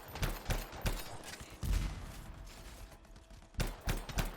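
Third-person shooter weapons in Anthem fire sharp, punchy shots in short irregular bursts, each crack distinct against quiet game ambience.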